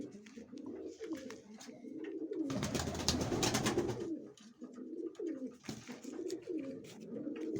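Soft, repeated cooing from a pigeon chick, close by and fairly quiet, with a burst of rustling in the middle.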